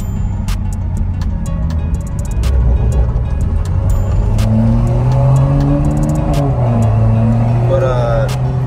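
A Toyota Supra A90 with a Magnaflow xMOD cat-back exhaust and catless downpipe cruising, its engine droning loud and steady from inside the car with gentle rises and falls in pitch as it gathers speed, while a person talks over it.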